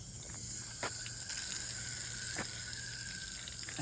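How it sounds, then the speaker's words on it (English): Water is poured onto a worm bin, a soft continuous splashing trickle with a few brief clicks, fairly quiet and with no talk. "so I'm gonna give them a little bit of water"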